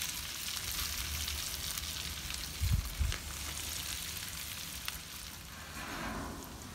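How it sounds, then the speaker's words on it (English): Onions and pork belly caramelizing in butter inside a smoker, giving a continuous close sizzle with a brief louder bump partway through. "We've got some onions in there with a little bit of butter caramelizing right now"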